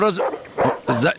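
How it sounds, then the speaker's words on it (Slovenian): Several dogs bark outside a farmstead, with three short loud bursts of barking and yipping close by. "ogromno psov je, kot slišite, malo neprijetno so me oblajali"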